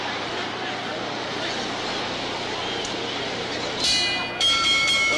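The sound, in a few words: boxing ring bell signaling round two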